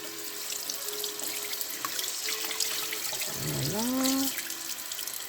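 Tap water runs steadily into a kitchen sink while food is washed for cooking at home, with a brief voice heard partway through.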